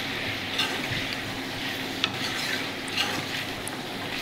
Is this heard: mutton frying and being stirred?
yes